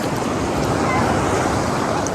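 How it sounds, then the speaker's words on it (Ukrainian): Sea waves at Odesa, a steady, continuous wash of surf close to the microphone with some wind rumble throughout. "Море."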